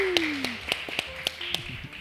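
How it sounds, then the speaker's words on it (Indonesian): A few people give brief applause during a school podcast, a sparse run of about seven separate sharp claps spaced evenly, fairly close, with a voice briefly heard at the start. "Tepuk tangannya alhamdulillah."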